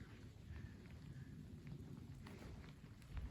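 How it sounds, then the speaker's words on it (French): Faint, steady rain patter with low rumbling underneath, a continuous wash of drops on a surface with no voices. "Voilà, ça y est, il pleut."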